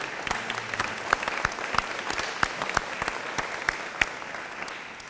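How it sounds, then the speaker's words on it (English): A small standing audience at a speedway recognition dinner claps steadily, with distinct individual hand claps audible throughout at an even, moderate level. "we'd like to give you a round of applause for sponsoring tonight's event"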